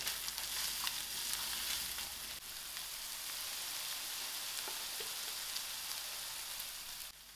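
Masala for a pilchard and potato curry fries steadily in a pan, a continuous close sizzle with faint crackles and no talk.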